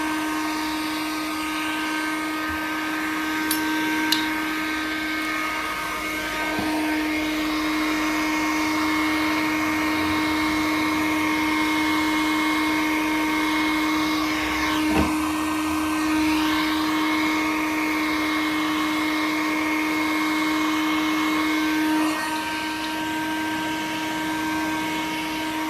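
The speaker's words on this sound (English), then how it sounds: "Obviously we got heat gun, and then we just kept heating it up." A heat gun runs continuously while heating a Ford Ka car part in cold weather, giving a steady, fairly loud blowing whine with a constant tone and occasional faint knocks, no one speaking.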